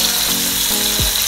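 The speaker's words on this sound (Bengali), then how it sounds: "এখন আমাদের ফিশটা ফ্রাই হচ্ছে।" Rui fish frying in oil in a pan, with a steady close sizzle and a few scraping clicks of a spatula.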